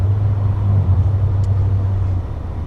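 A 2017 Duramax truck engine with 410 horsepower rumbles close by, giving a steady low, heavy drone that eases a little near the end, with no one speaking.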